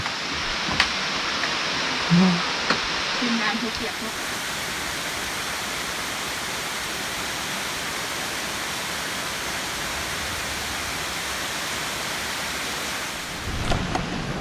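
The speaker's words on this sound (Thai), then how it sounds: "ตอนนี้ก็ฝนตก" Rain falls steadily near a cave in Khammouane, Laos, a continuous hiss of even, moderate loudness, with a few faint voices briefly at the start and a louder rustle at the end.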